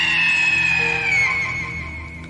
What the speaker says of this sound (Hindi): तभी पीछे पड़े हुए हमसे छूटे हुए सुनसान रास्ते से एक जोरदार चीख सुनाई दी